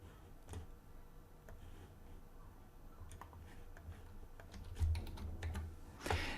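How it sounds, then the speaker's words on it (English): Keys clatter on a computer keyboard as login credentials are typed: a steady run of light, close clicks with a few louder taps near the end, and no talking. "let me type credentials as well"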